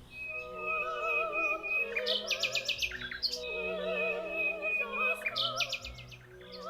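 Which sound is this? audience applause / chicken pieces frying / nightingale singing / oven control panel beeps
nightingale singing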